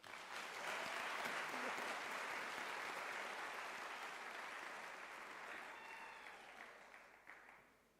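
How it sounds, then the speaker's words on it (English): Sustained applause from a large audience at a university graduation ceremony, a dense wash of clapping that holds steady for several seconds before tapering off toward the end. "may I request that we give Professor Ramodingwane Tabane another round of applause"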